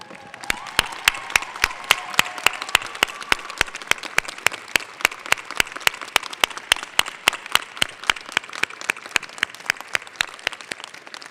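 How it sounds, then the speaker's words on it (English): Graduates at a law school commencement stand and applaud their supporters. Sustained crowd clapping fills the hall, with sharp, regular claps standing out near the microphone throughout. "Graduates, please rise and give your supporters a round of applause."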